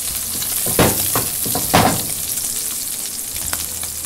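Oil sizzles and crackles continuously in a pan while frying food for Dominican tres golpes, with louder bursts as the pan is tilted and stirred up close.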